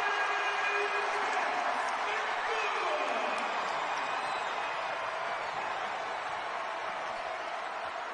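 A college basketball arena crowd at a Texas Tech versus TCU game roars loudly and continuously, a broad wash of cheering that holds for several seconds and eases slightly, with a commentator talking over it.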